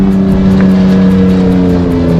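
A Baja 1000 race truck roars past at speed, its loud, close engine holding a steady, pulsing drone for a couple of seconds with no talk.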